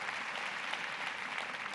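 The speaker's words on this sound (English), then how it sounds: "let's give a nice round of applause to the organizers for this sort of turnout" An audience at a global women's forum event applauds the organizers, a dense, steady round of clapping from a large crowd with no voices over it.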